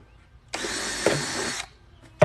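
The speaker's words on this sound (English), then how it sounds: "So I'm drilling about 4 holes" Power drill boring a hole into a plastic gardening container, one loud close whine of about a second with a brief grinding bite midway, then a short burst of another sharp sound at the end.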